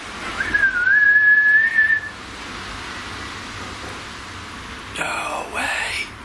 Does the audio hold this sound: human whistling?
yes